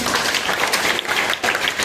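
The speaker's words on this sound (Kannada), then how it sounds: "ಎಲ್ಲರೂ ಜೋರಾಗಿ ಚಪ್ಪಾಳೆ ಕೊಡಿ ನೋಡುವ" A crowd at a school activity event bursts into loud, continuous applause, many hands clapping together close by without pause.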